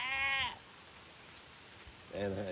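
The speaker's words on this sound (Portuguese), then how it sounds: "acho que isso é cabra" A goat bleats twice, two loud wavering harmonic cries near the start and end with quieter rain-like hiss between them.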